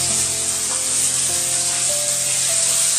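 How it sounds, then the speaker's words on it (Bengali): Finely chopped potatoes frying in hot oil for a bottle gourd skin dish, a loud continuous hiss and spray of oil holding steady throughout, with faint tonal hum beneath and no talk. "আলুগুলা কেটে রেখেছি কুচি করে, সেগুলো ভেজে নেব"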